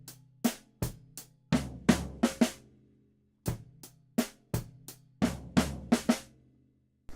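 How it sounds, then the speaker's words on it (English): Floor tom and snare struck together at an even eighth-note pace during a drum kit grade piece, two bursts of about eight hits each separated by a short gap, close and clear with no talking. "you want to be playing those floor toms and the snare together at the same speed that you would your groove"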